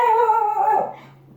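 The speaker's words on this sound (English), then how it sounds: "I apologize for my dog going crazy" A dog whimpers and yelps in a high, wavering howl-like cry lasting about a second, then trails off into quiet room hum.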